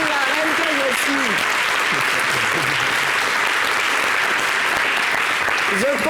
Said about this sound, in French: Applaudissez pour la reine que je suis.